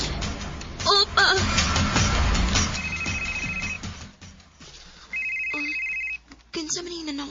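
A phone rings with an incoming call in two separate bursts of steady electronic tone, fairly close, with voices talking and background noise in between.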